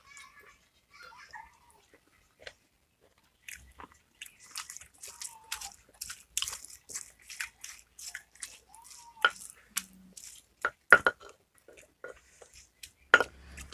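Someone eats long bean peanut sambal up close, with irregular crisp crunches, bites and wet chewing sounds coming in quick clusters between brief pauses, quiet overall with sharper crunch peaks.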